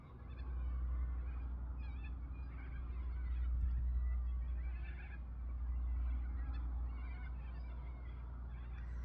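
Distant birds call and chatter in an ongoing flock over a steady low rumble, faint and far off, with no voices.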